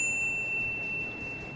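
A bright notification bell ding rings out as a sustained high tone that rings for over a second before fading, heard alone over a faint background hiss.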